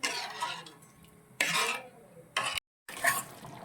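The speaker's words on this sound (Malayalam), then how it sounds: "നമ്മൾ ഇളക്കി യോജിപ്പിക്കണം ഇനി പരിപ്പ് വേകുന്നത് വരെ." A spoon stirs lentil payasam with coconut milk in a pot, giving several separate close scraping bursts with quieter gaps between them and one brief complete silence.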